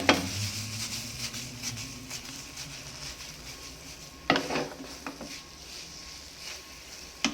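Pasta is mixed and stirred in a pan, giving soft scraping and shuffling with a few sharper clinks of the utensil against the pan, close and fairly quiet, with no voices.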